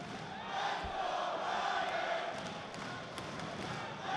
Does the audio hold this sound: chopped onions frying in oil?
no